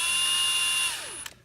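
Power drill boring a hole at slow speed while a ghost light is installed on a Mustang, a steady high whine that drops in pitch and winds down, ending in a short clunk.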